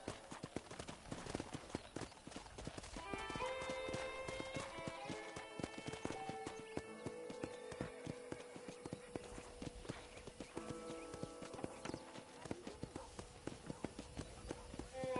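Horse hooves clip-clop steadily in Red Dead Redemption, a regular rhythmic trotting close by, with a horse's whinny and a speaking voice layered over it.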